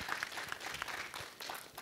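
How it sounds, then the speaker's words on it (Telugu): An audience applauds a comedy stage performance, a faint, distant patter of many hands clapping that runs without a break. "మీ చప్పట్లకు ఎప్పుడు దాసోహం నేను."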